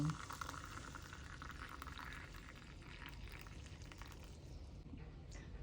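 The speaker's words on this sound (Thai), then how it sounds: "เทน้ำร้อนใส่ลงไปเลย" Hot water poured steadily onto two tablespoons of Thai tea powder for a small homemade batch, a continuous close splashing pour lasting several seconds with no talking.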